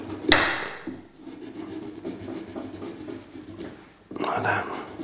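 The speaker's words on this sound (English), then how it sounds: "as I'm using this little serrated knife, I find it quite useful. Just try and cut the orange bit on the outside." A small serrated knife saws through the orange skin of a Halloween pumpkin, with a sharp scraping stroke near the start, a long stretch of quieter rasping and a louder burst of cutting near the end, all close to the microphone.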